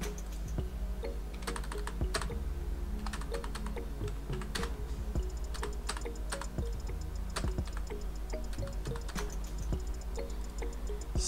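Fingers type on a computer keyboard, a close run of quick irregular key clicks with no voice.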